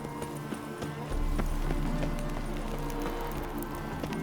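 Roach the horse's hooves clip-clop at a run in The Witcher 3, a steady rhythmic beat at moderate distance under a low ambient drone.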